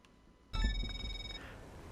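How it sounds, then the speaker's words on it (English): A phone call rings in GTA Online during nightclub management, a bright electronic ringtone with sustained tonal notes starting abruptly partway through and continuing over game background sounds. "There you can see we've got a phone call"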